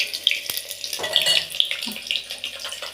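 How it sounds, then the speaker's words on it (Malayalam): Water runs and splashes steadily into a pot of semolina porridge as a glassful is poured, with a few clinks and bumps of utensils, close by. "ഞാനിപ്പോൾ ഒരു ഗ്ലാസ് വെള്ളം ഒഴിച്ചു"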